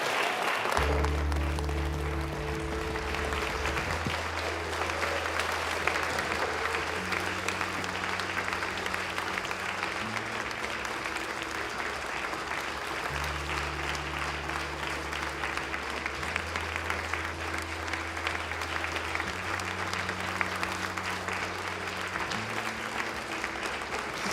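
Sustained audience applause at a church farewell gathering honoring Dr. Chung-Shik Yong, a dense, steady wash of clapping lasting the whole stretch, with low held musical tones beneath it.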